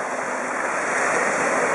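Ocean waves at a beach roar as a loud, continuous broadband wash of surf, close and steady.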